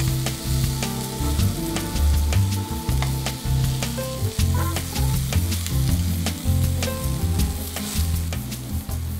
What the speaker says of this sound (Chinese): 那我们丝瓜翻炒了以后